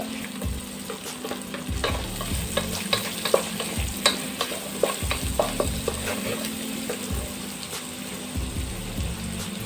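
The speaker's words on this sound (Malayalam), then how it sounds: "ഇനി നമുക്ക് സവാള ഇടാം." Sliced onions dropped into hot oil with fennel seeds for a paneer biryani, a loud continuous sizzle with repeated stirring scrapes against the pan and no talking.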